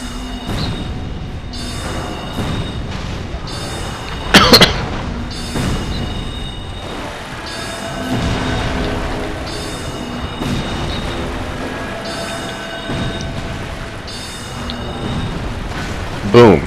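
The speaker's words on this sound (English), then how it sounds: "And Wrath of the Gods, most overpowered spell in the game" Wrath of the Gods, a miracle spell in the Dark Souls video game, lets out a sharp booming blast in the middle, among other thuds and game effects, with someone talking over it.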